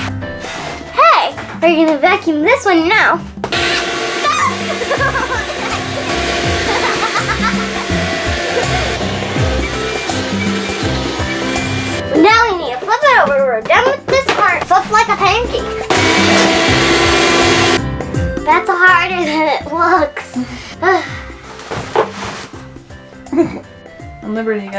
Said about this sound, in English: we're gonna vacuum this one now.